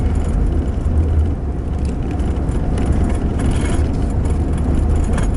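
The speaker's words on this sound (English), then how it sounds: "It chugs because it's got an oversized motor and a lot of horsepower." Old van with an oversized, high-horsepower motor in perfect tune, chugging in a loud, steady low rumble that holds constant and close throughout, with no voices over it.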